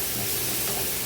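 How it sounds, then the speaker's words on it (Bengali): Food, likely bottle gourd with whole green chilies, sizzles and fries in a home kitchen pan, a loud, dense, continuous hiss close by without talk. "এটা এই যে ভাজা ভাজা হচ্ছে,"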